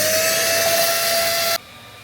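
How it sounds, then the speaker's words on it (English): A handheld vacuum cleaner sucks up spilled PLA-seashell and polypropylene flushing material from a pellet-extrusion 3D printer, giving a steady loud whine with a thin tonal hum for about a second and a half before it cuts off abruptly. "Lucky we got this handy vacuum cleaner right here"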